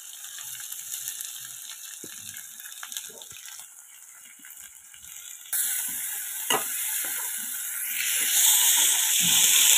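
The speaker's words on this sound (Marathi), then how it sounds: "आपण आता ग्रेव्ही केलेली ती टाकून घेऊया." Gravy poured over browned onions in a hot pan sizzles and hisses continuously, with stirring scrapes and clinks; the frying noise surges louder partway through and stays steady, close up with no talking.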